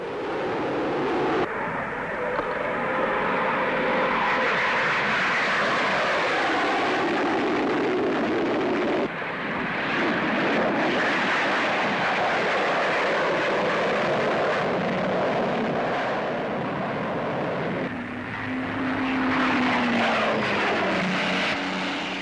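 An English Electric Canberra B-1 medium-range turbojet bomber flies at the 1949 Farnborough Air Show, giving a loud, continuous jet roar that swells and shifts in pitch as it passes.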